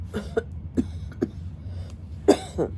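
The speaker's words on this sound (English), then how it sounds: "It's just an annoying allergy cough." Several separate allergy coughs spread across a few seconds, close to the mic, with a louder double cough near the end and a quiet low hum underneath.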